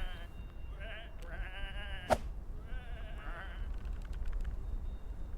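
Sheep in the video game Whateverland bleat in two clear, wavering calls, with a sharp crack between them and light clicking afterward, close and fairly loud over a low background hum.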